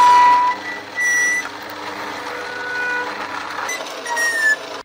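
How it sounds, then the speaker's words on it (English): Church organ tone wheel tones picked up by a guitar pickup and played through a guitar amplifier, steady pure whistling pitches over a constant electrical hum and buzz, with no voices. "you can actually hear the organ tone wheel going through the guitar amplifier"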